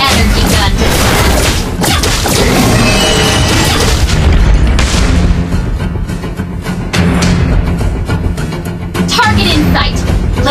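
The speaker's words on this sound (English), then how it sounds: "Let's put the energy gun to the test." Loud, repeated energy gun blasts and booming impacts from the hero Layla in a Mobile Legends one-on-one match, dense and continuous over game music and effects.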